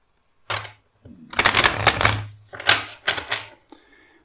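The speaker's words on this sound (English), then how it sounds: "Let's do 2 more shuffles." Tarot cards are shuffled in a few quick riffling bursts with short pauses between, close and crisp, with no talking.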